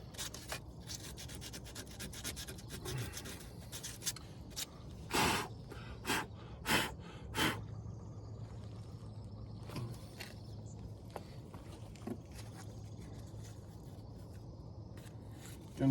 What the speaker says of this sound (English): Gonna need some new sandpaper.